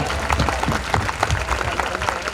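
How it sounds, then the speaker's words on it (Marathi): A crowd at a college departmental dance event claps in a dense burst of applause, close and lively, lasting a couple of seconds with faint voices mixed in. "या सगळे डिपार्टमेंट साठी जोरदार टाळ्या होऊन जाऊ द्या"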